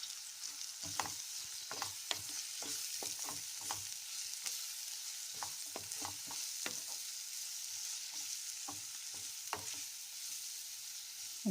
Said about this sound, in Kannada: ಒಂದೆರಡು ನಿಮಿಷ ಇದನ್ನು ಹುರ್ಕೋಬೇಕು.